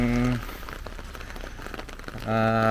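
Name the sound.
heavy rain falling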